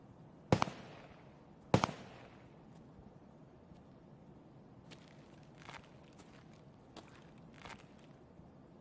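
Two sharp, loud shotgun blasts in Escape from Tarkov about a second apart, each with a decaying tail, followed by quieter scattered footsteps and clicks.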